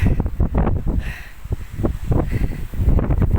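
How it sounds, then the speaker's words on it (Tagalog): Gusty wind buffets the microphone in loud, rumbling bursts, with rustling noise and a faint voice now and then. "Sobrang hangin."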